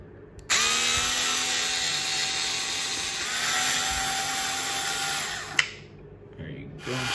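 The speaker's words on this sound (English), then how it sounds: "I got my skill drill here, making the job a little bit easier." A Skil power drill whirs steadily for about five seconds, backing out screws from the stock throttle servo on a KM Baja 5B RC car, then stops with a sharp click and brief handling noises.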